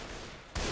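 A single sharp sniper rifle report in Left 4 Dead 2 cuts in abruptly after a low rumble of game noise, loud and close, closing a very brief moment.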